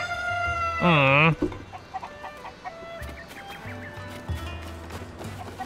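Cuccos in The Legend of Zelda: Tears of the Kingdom, a loud warbling crow-like squawk up front, then scattered soft clucks over low game ambience with brief thumps.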